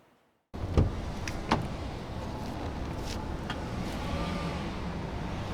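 A 2015 Audi A3 8V with a CTS turbo and exhaust fires up after a moment of silence, a sharp start followed by a few clicks, then settles into a steady, fairly loud idle close by.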